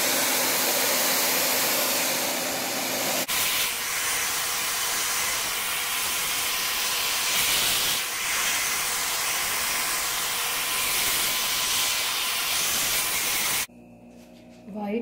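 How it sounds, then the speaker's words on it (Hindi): Hair dryer on high speed blowing across poured acrylic paint, a steady loud broadband whoosh that runs unbroken for about ten seconds before cutting off abruptly, with no talk over it. "ड्रायर लेके इसको हाई स्पीड पर बनाएं।"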